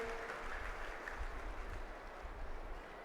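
An audience claps at a devotional Bhagavat Katha gathering. The applause is dense and continuous but distant and faint.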